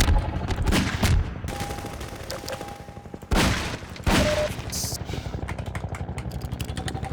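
Gunfire in the Half-Life video game, loud rapid bursts of automatic shots with a few heavier blasts and clattering in between, close and continuous over a game soundtrack, no talking.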